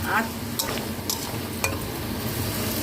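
A spoon stirs sugar into a dish in a pan, with soft scraping strokes and a few sharp metallic clinks over a faint sizzle in the background.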